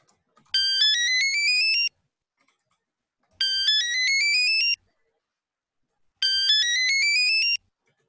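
A phone ringtone plays in three separate bursts of roughly a second and a half each, clear and close, with silence between them, signalling a second incoming call.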